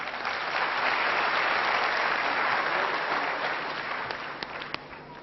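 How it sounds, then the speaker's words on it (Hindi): Audience at a Hindi poetry gathering (kavi sammelan) applauding: dense, sustained clapping from a large crowd, loud and steady, slowly thinning toward the end with a few distinct claps. "तालियां कम बजी शैलेश लोढ़ा के नाम से।"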